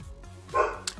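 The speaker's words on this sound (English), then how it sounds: "If you can hear my dog barking" A pet dog barks once from indoors, a short moderately loud bark with a brief yip-like trace trailing after it.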